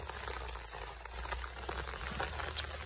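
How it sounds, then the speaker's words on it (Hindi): Rain falls steadily on a hill home in the Pahadi countryside, making a soft, continuous patter that stays faint and even throughout, with no talking. "कभी भी बारिश हो जा रही है।"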